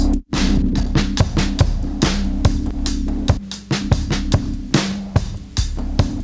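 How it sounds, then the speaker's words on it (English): A drum beat plays back from a tape loop in a steady rhythm of sharp, evenly spaced hits over a sustained low hum, loud and close. "let's hear the first beat that Eric laid down on top of track 3"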